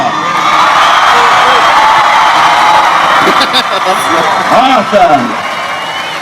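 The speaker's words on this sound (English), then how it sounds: "Give her a round of applause." A stadium crowd cheers and whoops for a racing prize winner, a loud, continuous roar of many voices and applause with whistles and shouts rising near the end, a single voice calling out over it.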